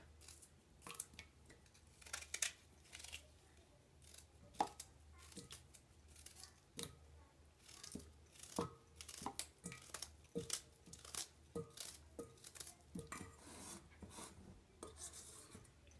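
Repeated sharp knife strokes against quince chopped by hand, irregular and close, with rasping cuts and small crunches continuing steadily throughout.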